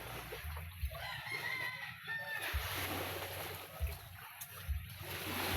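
A long-kept backyard chicken near a waterside spot with many boats gives a few soft clucks and short calls, fairly faint against outdoor ambience, with occasional low thumps.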